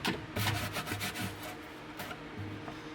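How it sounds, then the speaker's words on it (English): A Kreg pocket hole jig pulled off a wooden cabinet gives a steady close rubbing and scraping of wood and plastic, with a few harder knocks mixed in and no talking. "Pull the Craig jig off."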